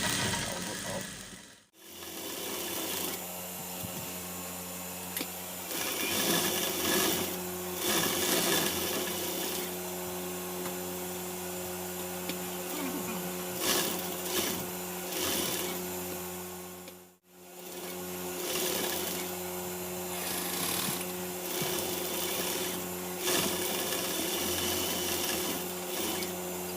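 A sewing machine runs steadily while stitching a waistcoat jacket, a continuous close mechanical whir broken by two short pauses.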